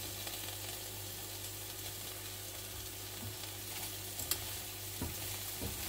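Fried rice ingredients sizzle steadily in a pan while being stirred, with a soft continuous hiss and occasional scraping clinks near the end, no voices.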